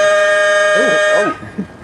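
A loud, close blast of a truck air horn holding a steady brassy tone, then cutting off with a short wavering tail.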